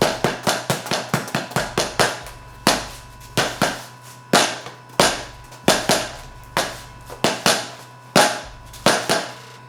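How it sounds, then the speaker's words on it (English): A Title Shot Tai reflex stick bag struck by gloved punches, a rapid run of sharp popping slaps with quick rebound, then spaced single and double hits, loud and close, with no voices. "you just get a much more kind of like a nice pop and feel when you're hitting it"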